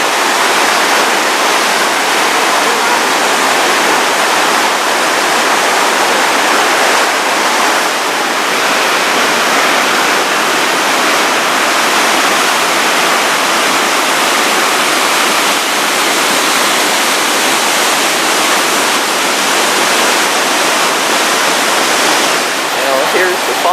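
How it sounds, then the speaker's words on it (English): Steady, powerful roar of Huka Falls in New Zealand, loud and unbroken throughout, like dense rushing white noise with no pauses. "Here's the falls from the other side. You can see the tremendous amount of water."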